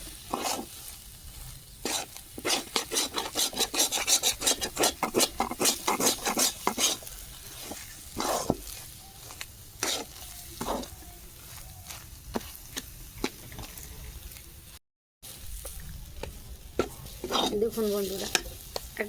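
Dal fries in a kadai held with tongs while a spatula scrapes and pokes at it, a busy series of rapid metallic scrapes and clacks over a constant sizzle, close and fairly loud, easing into sparser strokes later.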